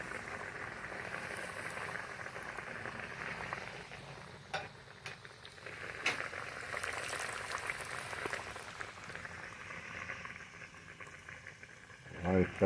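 Zinger chicken pieces hiss and bubble softly in hot oil around 160–170 degrees, a faint steady sizzle with small splashes as each piece drops in, under a voice.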